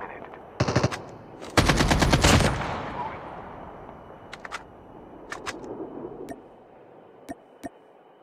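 Gunfire in the COD Mobile video game: short automatic bursts, then a longer sustained burst of rapid shots, followed by scattered single shots and game sounds fading down.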